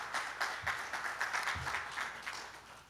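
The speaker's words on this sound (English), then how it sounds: "we should give Governor Cuomo a big round of applause for the Islanders" Audience applause at a university ground-breaking ceremony: a soft, distant wash of clapping that continues steadily throughout.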